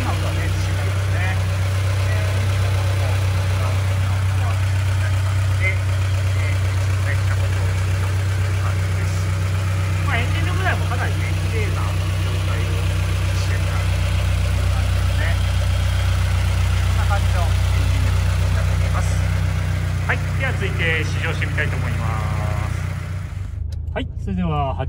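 An early-model Toyota 86 2.0 GT with a six-speed manual, an aftermarket Rosso Modello muffler and 97,400 km on it idles steadily with a loud, even low rumble while someone talks over it.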